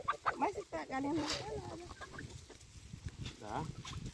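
Farm chickens cluck and murmur in a run of close, busy calls, with a louder squawk partway through, over outdoor rustling.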